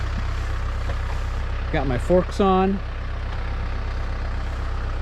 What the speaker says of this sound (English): I've got the tractor over here ready to go